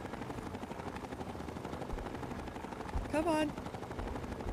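A missile launcher fires in the video game Fallout 3, a sharp launch burst with a rising whistling streak over rattling gunfire-like game noise, while someone says a couple of words.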